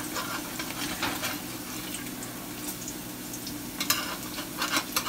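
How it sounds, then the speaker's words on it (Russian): Belarusian potato pancakes, draniki, fry in a generous layer of oil, giving a steady crackling sizzle with occasional louder spatters and utensil scrapes as they are turned. "так как жарится это все в достаточно большом количестве масла"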